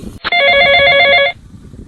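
A telephone rings in one continuous electronic burst of about a second, bright and clear, with quiet room background before and after, as a call is placed.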